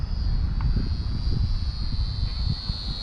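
A small XK T-28 Trojan RC plane comes in to land, its electric motor giving a steady high whine over a continuous buffeting rumble of wind against the microphone, fairly loud and close.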